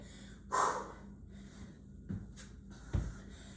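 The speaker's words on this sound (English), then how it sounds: "I want you to hear that exhale as you're pushing." During a reverse lunge workout, there are three sharp, forceful exhales close to the listener, spaced irregularly with soft breathing between them.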